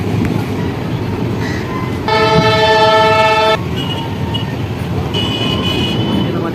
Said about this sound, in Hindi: फाइनली 2 मिनट हॉल्ट के बाद अपनी ट्रेन का डिपार्चर हो चुका